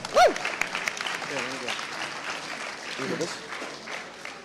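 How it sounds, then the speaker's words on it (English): Light applause from an audience at a high school spoken word competition, fairly soft and scattered, with a short whoop at the start and brief voices and cheers in the crowd. "Let's give Amy a round of applause"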